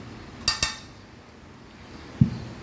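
A metal teaspoon clinks twice in quick succession against a bowl or container while kebab spice mix is added, followed by a single duller tap a moment later; close and fairly quiet.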